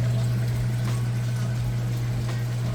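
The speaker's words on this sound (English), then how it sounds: "it's going to fill back up with fresh, clean water for the rinse cycle" A Whirlpool Amana washer fills with fresh water for its rinse cycle: a steady rush of running water over a low, constant motor hum, continuous and close.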